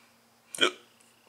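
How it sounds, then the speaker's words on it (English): A single sharp hiccup from a man, close and fairly quiet, standing alone against a faint steady background hum. "Man, I got the hiccups."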